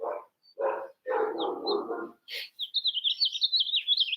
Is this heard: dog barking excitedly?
yes